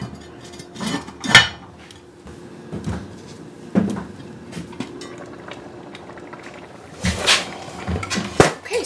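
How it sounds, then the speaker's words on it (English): A lid goes onto a metal pot of simmering pork verde chili, with several sharp clanks and knocks of cookware spread among quieter kitchen handling sounds. "I'm going to put the lid on so that it can come to a simmer"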